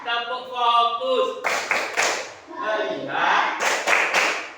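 Voices chant, then a few quick bursts of group clapping break in, followed by more chanting and another clap.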